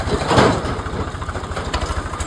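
A farm tractor idles close by in a steady low, pulsing chug with a brief rise in engine noise near the start.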